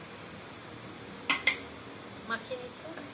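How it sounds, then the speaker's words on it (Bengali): Marinated prawns coated in turmeric and spices are stirred in a pan. Soft sizzling runs throughout, broken by a few sharp utensil scrapes and clinks against the pan. "চিংড়ি মাছটাকে ভালো করে মশলার সাথে মিশিয়ে নিচ্ছি।"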